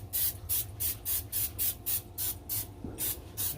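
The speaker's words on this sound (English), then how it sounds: "you want to spray the inside with a little bit of vegetable oil" Vegetable oil sprayed from a can inside a Pitts & Spitts 1250 pellet grill, a series of about ten short, even hissing bursts in a quick steady rhythm, close and clear.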